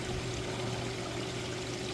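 A faulty pond pump runs with a constant watery rush and a steady low hum underneath, unbroken throughout.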